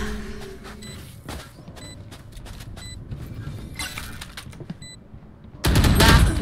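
Gunfire in a shooter video game: scattered sharp shots and clicky mechanical bursts throughout, ending in a loud, dense volley of rapid fire.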